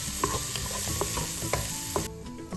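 Chopped onions sautéing in a pan with whole spices while making chicken biryani, giving a steady close sizzle with repeated scraping stirs of a spoon against the pan throughout.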